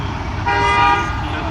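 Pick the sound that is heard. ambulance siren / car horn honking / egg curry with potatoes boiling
car horn honking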